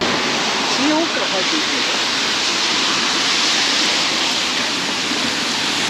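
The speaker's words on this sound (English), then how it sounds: "the rain is back" Rain falls steadily in Fukuoka near the seafront, a loud, continuous broadband hiss with no breaks, and a brief murmur of voice near the start.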